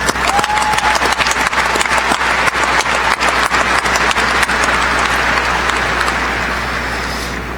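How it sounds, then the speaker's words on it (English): Applause from the crowd at a 2019 high school graduation ceremony, steady dense clapping that fills the space and holds for several seconds before starting to thin out near the end. "I think they deserve a round of applause."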